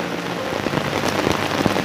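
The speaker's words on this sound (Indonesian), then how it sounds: "Kalau agak hujan nih, aduh." Steady rain falls during a channa fishing outing with a thin stick rod, a dense, even hiss of drops striking surfaces close by, with no talk.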